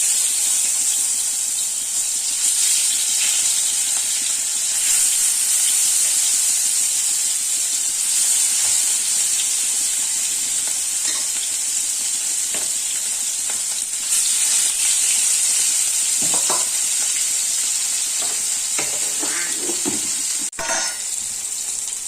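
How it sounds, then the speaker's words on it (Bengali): Fish frying in a pan in a home kitchen, a steady sizzling hiss held close and constant throughout, with occasional pops and a few light utensil clinks near the end. "তো একদিকে মাছ ভাজা তো হচ্ছে"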